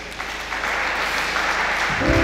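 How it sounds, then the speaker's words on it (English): Audience applause at a Clifford University event, a steady burst of many people clapping that swells quickly and holds loud, with a brief low thump near the end. "Please round of applause."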